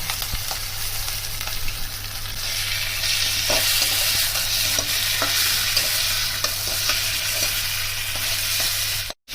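Sugar is tipped into a hot frying pan and stirred for Bengali muri ghonto, a fish head and rice dish, giving loud continuous sizzling with repeated scraping strokes of the spatula.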